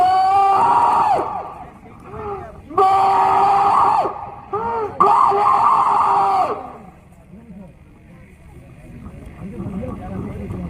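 A crowd at a religious satsang gathering shouts in loud, sustained, tonal bursts separated by short pauses, then the shouting fades to a quieter murmur.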